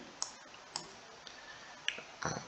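Mouse clicks in software, five or six sharp, quiet taps spaced irregularly over a soft background hiss with no voice.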